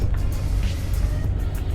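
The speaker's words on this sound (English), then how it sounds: "GT4 is a beast. It's great to see it still running out here." Porsche GT4 running at an autocross event, a steady engine drone with some rumble at moderate distance, no talking.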